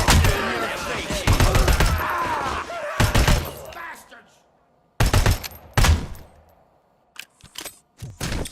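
Gunfire in the RCRC video game, with loud bursts of rapid shots in several clusters separated by brief quiet gaps, ending in a few scattered single shots.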